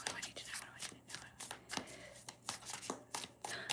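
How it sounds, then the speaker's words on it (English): Tarot cards are shuffled close up with rapid, irregular riffling and soft slaps in quick bursts, while a low voice murmurs quietly in the background. "I'm shuffling."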